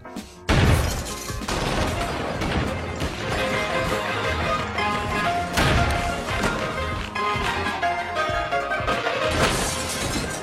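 Gunfire and crashes from an action film shootout during a heist, a dense, loud barrage of shots, impacts and shattering running continuously with a backing score.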